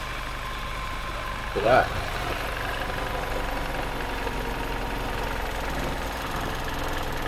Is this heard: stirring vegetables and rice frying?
no